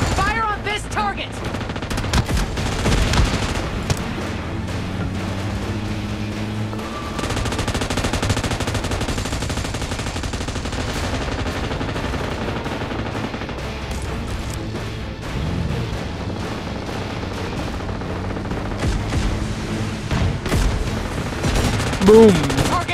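Automatic gunfire in PUBG Mobile's team deathmatch mode, steady bursts of loud machine-gun fire with a booming impact, continuing throughout under a busy game soundscape and occasional voice chatter.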